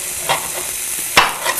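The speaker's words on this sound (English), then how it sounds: "And I hope you can hear the sizzle because it sounds" Omelet ingredients sizzle in a frying pan, a steady close hiss with a few soft stirring scrapes and small pops, no voices.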